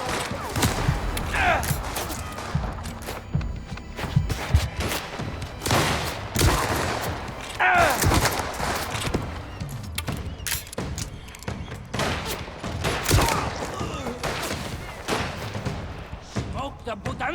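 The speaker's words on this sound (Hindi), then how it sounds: "अब गोलियां चलानी पड़ेंगी।" Gunfire from the video game Mafia: The Old Country erupts in dense, loud volleys of repeated shots and impacts for the whole stretch, mixed with game voices and shouting.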